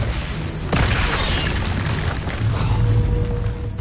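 An Incendio fire spell cast in the Hogwarts Legacy video game, a sudden whooshing burst that flares into a sustained roaring rush of flame, loud and close.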